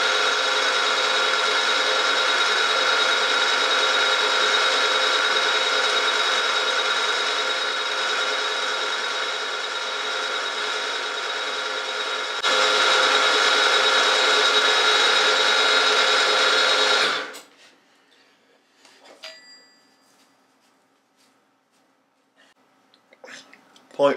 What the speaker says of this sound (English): Change to an end mill.